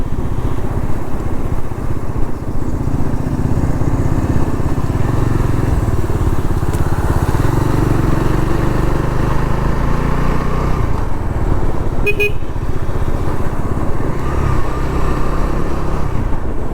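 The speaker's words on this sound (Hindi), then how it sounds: "अभी रास्ते पे बाइक चला के मज़ा आ रहा है बहुत" Motorcycle ridden on a road during a Sunday group ride, its engine droning steadily and loudly with continuous wind and road rumble, no pauses across the whole stretch.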